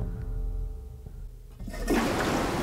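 A toilet-like flush set off by pulling a chain in the video game Ankh, a quiet low rumble building into a loud rushing swirl of water that continues to the end.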